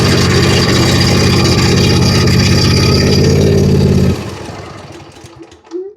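A John Deere Z335 zero-turn mower engine runs loud and steady close by, a dense harmonic drone that cuts off abruptly partway through, leaving fading rattles and a brief tail.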